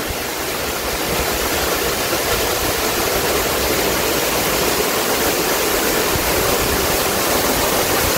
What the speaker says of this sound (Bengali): আরেকটা ঝর্ণার সামনে চলে এসেছি।